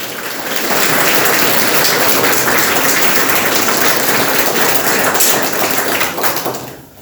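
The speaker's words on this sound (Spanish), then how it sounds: "Denle un aplauso al Señor." Congregation applause at a Spanish-language church service, a loud, dense wash of clapping that swells in quickly, holds steady for several seconds and then tapers off.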